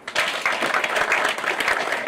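A crowd starts clapping abruptly and keeps up vigorous, sustained applause that stays loud and even through the short stretch.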